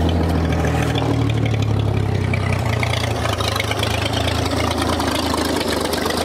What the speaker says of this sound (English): Sitting there idling. Not the greatest idle, but still.